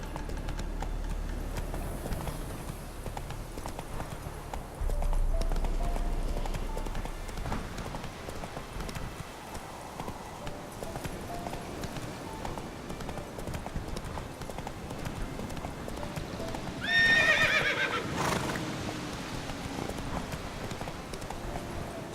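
Horse galloping in the video game The Witcher 3: Wild Hunt, steady clip-clop hoofbeats running throughout at moderate loudness, with a brief louder swell of movement near the end and a faint voice.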